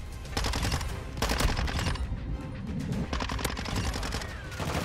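Rapid automatic gunfire in a first-person shooter game, dense bursts of shots with brief gaps, loud and close, nearly continuous throughout.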